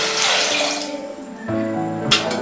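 A tumbler of water pours into half a kilo of mutton in a cooking pot for Chettinad-style mutton kulambu, a steady close splash that thins out, then a brief louder slosh near the end.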